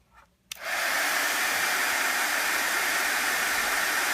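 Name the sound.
heat tool blowing hot air for card making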